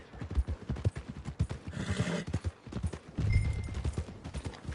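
Horse hooves clip-clop along at a steady walking rhythm in Red Dead Redemption 2, close and fairly loud, with a brief swell of busier background noise partway through.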